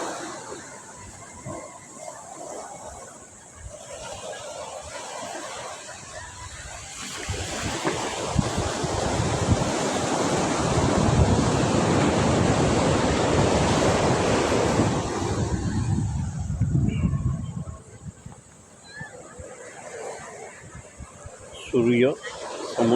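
Sea waves wash onto Sagareshwar beach in Vengurla, Konkan, Maharashtra, a steady broadband roar that swells to its loudest midway through, with wind buffeting the microphone and a voice speaking faintly.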